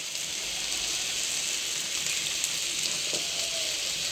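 Cumin-spiced masala sizzling steadily in hot oil in a pan while being cooked down for a mackerel curry; a continuous close, moderately loud frying hiss with no talk.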